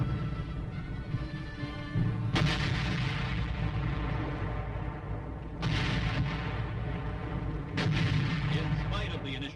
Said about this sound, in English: artillery fire is called for to loosen enemy supporting areas